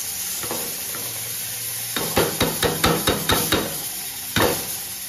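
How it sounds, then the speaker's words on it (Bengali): Steady sizzling of rice frying in a pan for mutton tehari, joined midway by a quick series of sharp scraping knocks from stirring, then one more scrape near the end. "চালটা এবার ভালো করে ভেজে নেব।"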